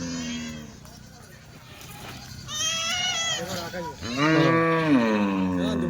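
Several Kathiawari sheep bleat loudly and repeatedly nearby, their wavering calls overlapping with some background murmur.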